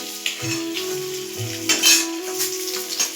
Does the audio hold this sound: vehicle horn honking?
no